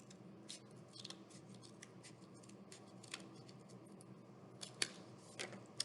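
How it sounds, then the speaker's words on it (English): Scissors snip through a cardboard toilet paper roll to cut it into rings, giving a run of crisp, fairly quiet cuts with a few sharper clicks near the end, heard alone over a soft room background. "So we'll just take the scissors and cut it just like this."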